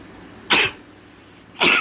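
Two short, harsh coughs, like those of an asthma patient, sound close and loud, about a second apart, with quiet background between them.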